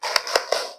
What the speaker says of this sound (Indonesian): Kita ulangi tepuk semangat.